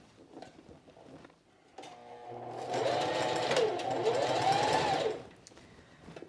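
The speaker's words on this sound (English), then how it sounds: "I am just going to sew right across and close that gap up" A sewing machine runs a steady continuous stitch across the seam of a quilted jacket, starting after a short pause and holding a loud, even whir for about three seconds before stopping.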